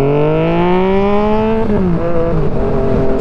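A Yamaha MT-09 (FZ-09) motorcycle engine drones steadily while riding, its pitch climbing smoothly under acceleration, then dipping and wavering through gear changes, loud and continuous with wind rush and no talk.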